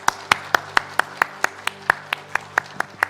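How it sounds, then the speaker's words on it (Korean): Steady, rhythmic clapping at a church Sunday worship service welcoming a guest to give a testimony: sharp, evenly spaced claps, about four per second, fairly close, over a low background hum and with no talking. "우리 한번 큰 박수로 맞아 주시기 바랍니다."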